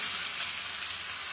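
Panch phoron spices, chili and bay leaf frying in hot oil, giving a steady close sizzle with no voices.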